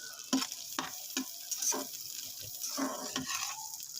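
Okra (bhindi) frying in ghee, a close crackling sizzle broken by repeated bursts of stirring and scraping at an uneven rhythm, with no talking.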